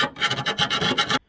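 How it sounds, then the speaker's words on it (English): A metal file rasps back and forth in quick strokes on drilled thin sheet metal, loud and close, about eight scrapes before stopping abruptly. "When you drill thin sheet metal, the holes don't get round. So it needs always a little bit of filing."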